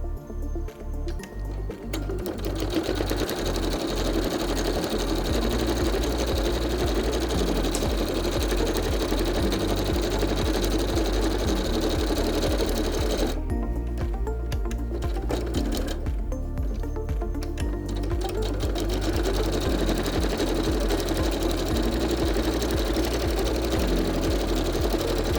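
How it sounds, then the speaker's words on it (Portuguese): Sewing machine topstitching black thread along both sides of a Santaflex men's toiletry bag, running steadily and loudly for the whole stretch with a fast, even mechanical rhythm and only brief changes in pace. "nós vamos passar um pesponto dos 2 lados"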